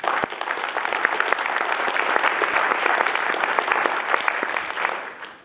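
An audience at a UKIP political meeting gives a sustained round of applause, dense clapping that holds steady for several seconds before tailing off at the end.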